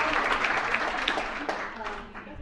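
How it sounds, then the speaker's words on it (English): Audience applause at a civics bee, a steady wash of clapping from a crowd that holds for a couple of seconds and then tapers off slightly toward the end. "let's give him a round of applause"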